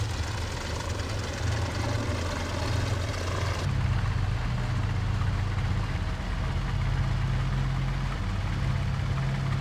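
Junkers Ju 52 three-engine transport in the IL-2 Sturmovik flight sim droning steadily at a low, even pitch, loud and continuous throughout with no voices.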